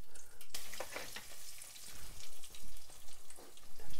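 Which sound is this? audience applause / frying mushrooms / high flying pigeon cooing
frying mushrooms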